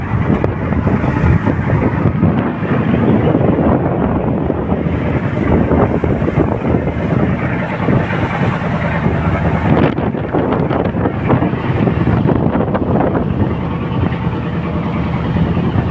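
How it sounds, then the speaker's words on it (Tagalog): Strong wind roars continuously and close up, gusting and buffeting the microphone with no voices. "Lakas ang hangin. Lakas ang unos kanina."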